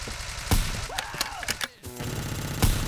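Rapid gunfire rings out in a browser shooter video game, with several sharp shots, a short burst and a brief gap before another shot. No one speaks.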